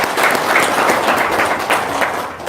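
An audience at an Indonesian religious talk breaks into brief, dense clapping, a close, even burst of applause lasting a couple of seconds.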